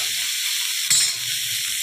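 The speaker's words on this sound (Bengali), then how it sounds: "নুনটা দিয়ে কাঁকরোল আর উচ্ছে মিক্স করে ভাজাটা করতে হচ্ছে আজকে" Sliced spiny gourd and bitter gourd mixed with salt sizzle steadily in hot oil, with a brief stir of the pan partway through, close and alone.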